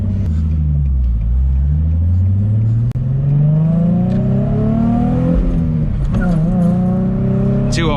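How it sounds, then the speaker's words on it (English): A modified 2005 Nissan 350Z with a lightweight flywheel revs hard from inside the car, its engine note climbing quickly, easing off and climbing again in close, loud, sustained pulls. "I've never revved this car with a lightweight flywheel."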